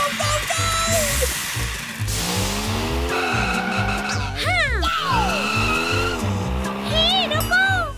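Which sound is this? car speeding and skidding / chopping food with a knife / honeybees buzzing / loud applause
car speeding and skidding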